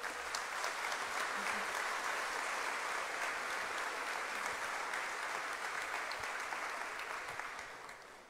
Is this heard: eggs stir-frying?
no